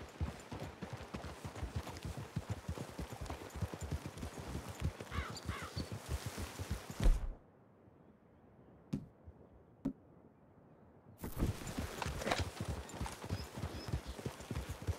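Rapid horse hoofbeats from a video game clatter steadily, stop abruptly for a few seconds of near silence with a couple of faint knocks, then resume.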